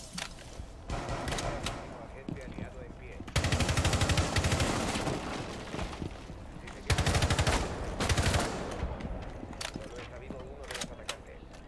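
Automatic gunfire in the tactical shooter Rainbow Six Siege, with several loud, close rapid-fire bursts separated by short gaps, while a player talks over the action.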